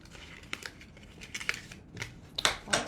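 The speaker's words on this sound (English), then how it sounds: "we're going to fold on the score lines. Burnish with your bone folder" Paper folds along score lines and a bone folder burnishes the creases, giving quiet, close crinkles, scrapes and short rubbing strokes in an irregular rhythm.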